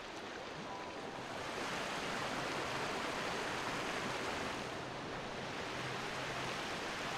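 Rushing water of a waterfall in the video game The Talos Principle, a dense, continuous roar that stays loud and steady throughout with no voices.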